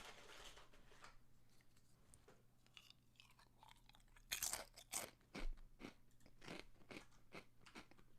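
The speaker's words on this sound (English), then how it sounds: "Eat more crackers, you say?" Crackers are chewed and crunched close to the microphone, scattered crisp bites that grow louder and denser partway through, over a faint steady hum.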